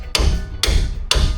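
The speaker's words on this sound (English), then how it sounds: "you can tap it too." Three sharp hammer taps ring out at an even pace on a strut bolt during a front quick-strut install on a Ram 1500 pickup, each strike bright and metallic with a short decaying ring, close and loud with no talk.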